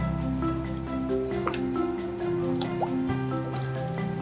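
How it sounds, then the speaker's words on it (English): Liquid soap mixture being stirred in a container, with a steady run of small wet drips and squishy sloshes close up, soft and continuous, with no voices. "And also stir properly."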